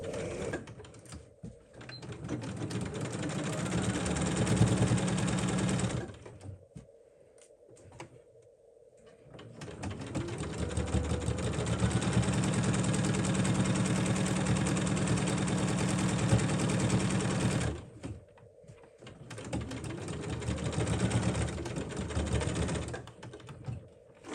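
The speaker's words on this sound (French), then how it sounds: "on peut piquer à 1 cm tout le long" A sewing machine runs in fast rhythmic bursts while stitching through several layers of a fabric clutch bag, with three long runs of close mechanical chatter separated by short pauses.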